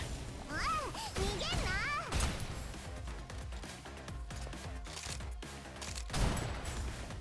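Gunfire aimed at a giant worm in the action shooter Snowbreak: a steady stream of quick, fairly quiet shots and thuds crackles along with game effects and sweeping tones.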